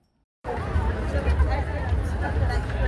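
A crowd chatters at a street festival, a dense, continuous babble of many voices, close and steady with no single voice standing out, starting abruptly after a short silence.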